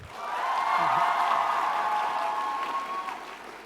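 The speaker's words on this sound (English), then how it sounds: "Round of applause for Jack, please." A convention audience at a TwitchCon panel applauds a panelist, with steady, sustained clapping from a crowd that swells and then slowly tapers off over several seconds.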